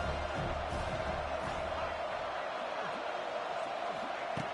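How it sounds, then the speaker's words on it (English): Football stadium crowd cheering and roaring during a Duke versus UCF game on third down; a dense, continuous wash of crowd noise, steady and fairly loud, with a faint announcer voice underneath. "3rd down, and the crowd really getting into it"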